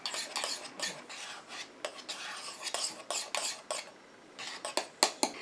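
A spoon scrapes and clinks around a bowl while a glittery hair conditioner mixture is stirred, a close run of irregular metallic scrapes and taps with brief pauses and no talking.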